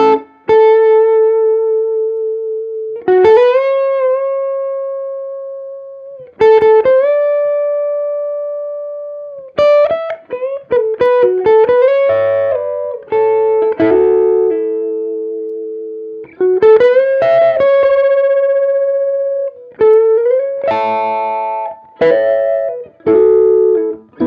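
Clean electric guitar notes and chords played on the middle pickup through a 1966 Fender Pro Reverb amp ring out loud and alone, sustained single notes alternating with quick strummed bursts that decay smoothly.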